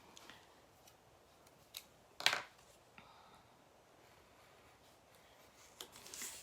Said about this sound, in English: We're going to miter cut the corners so it doesn't bulk up there.